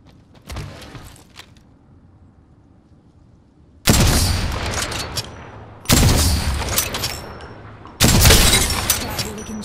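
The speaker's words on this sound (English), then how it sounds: "Spam bots are shooting at me." Bots fire on the player in the Apex Legends video game. After a short scattered burst, three loud volleys of rapid gunfire start abruptly, each cut off by a brief gap, with game voice chatter in between.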